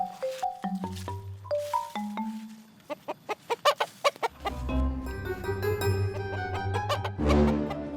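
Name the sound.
chicken clucking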